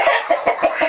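Chickens clucking in a backyard coop, a quick run of five or six close, loud, rhythmic clucks in under a second.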